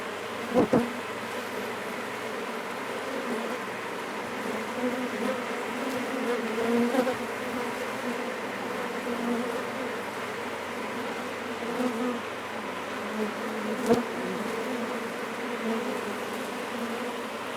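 A dense, steady hum of many bees buzzing close by during a bee tree trap-out, continuous throughout with a few faint knocks.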